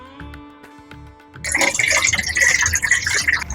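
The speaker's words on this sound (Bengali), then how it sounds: "চার পাঁচবার ভালো করে ধুয়ে এই যে জল ঢেলে দিলাম" Water is poured over soaked black gram lentils, a loud, continuous splashing gush that starts abruptly after a quiet opening with faint tonal background sounds.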